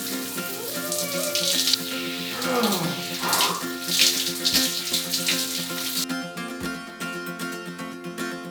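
Cold water pours steadily from a tap in El Salvador, a close, continuous splashing hiss with a brief change in the flow near the end.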